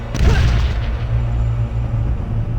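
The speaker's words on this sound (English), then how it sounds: "Grenades over the top." A grenade going off in Fallout Tactics, one loud close blast with a sharp onset and a rumbling low tail that fades over a couple of seconds, with no talk.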